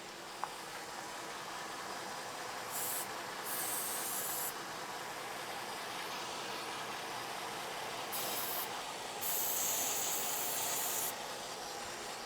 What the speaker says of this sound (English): I'm just going to use some freeze spray on the ECU itself